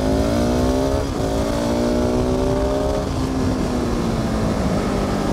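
A modern, high-end 700 supermoto motorcycle engine revs and pulls hard, its droning tone sliding through gear changes as it accelerates, steady and fairly close, with no talking.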